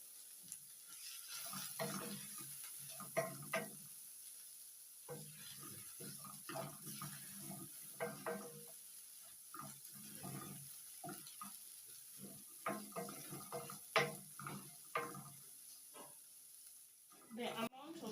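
Omena fish fry in a small amount of oil in a pan, with faint, uneven crackling and sizzling bursts throughout, fairly quiet and close.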